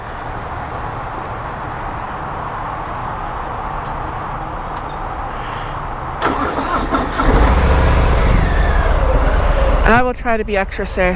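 A car drives along a road with a steady low engine and road rumble that swells louder partway through, while a person speaks over it.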